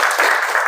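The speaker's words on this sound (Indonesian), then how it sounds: "Beri tepuk tangan dulu buat kita semua." A classroom of students applauds during a chemistry lesson on sodium hydroxide solutions, a short, loud burst of dense clapping heard close by.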